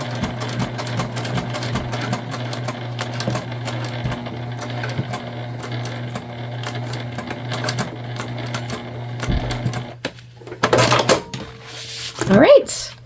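A Juki sewing machine stitches a pocket onto a structured bag, a close, steady humming stitch with rhythmic ticking that runs for about ten seconds, followed by clattering handling noises.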